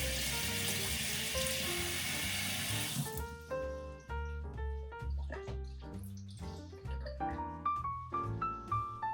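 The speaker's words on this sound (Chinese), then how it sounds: "现在冲洗一下吧。" Tap water runs steadily onto conch meat in a kitchen sink as it is rinsed clean, a broad hiss for the first three seconds giving way to irregular splashing and gurgling close by.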